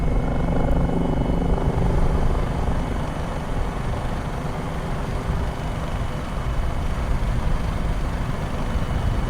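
A helicopter hovers in Microsoft Flight Simulator 2020, its engine and rotor giving a steady, loud, dense drone that holds evenly throughout with no talking.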